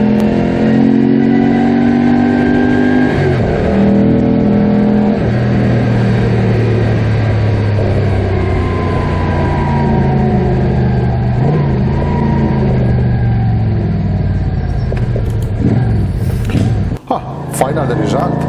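An old Moto Guzzi V75 SP classic motorcycle being ridden, its engine droning steadily with deep bass and shifting pitch as revs rise and fall, loud and close, with a voice talking over it.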